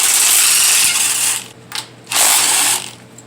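A hand ratchet loosening the upper intake manifold bolts on a Monte Carlo engine, a loud, close rapid clicking in two bursts separated by short pauses.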